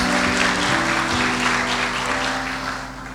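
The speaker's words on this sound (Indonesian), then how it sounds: "Berikan tepuk tangan buat Tuhan Yesus." Church congregation applauding during a worship service, a dense, steady patter of many hands that fills the room at close range and fades slightly at the end, over a sustained instrumental tone.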